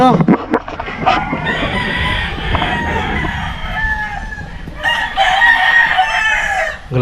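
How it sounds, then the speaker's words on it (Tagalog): Roosters crow one after another over steady hen clucking, the calls loud and close with a busy flock murmuring underneath. "Grabing manok dito."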